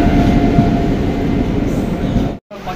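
Chennai metro train at the station, a loud close rumble of wheels and carriages rolling steadily, then a sudden brief cutout near the end.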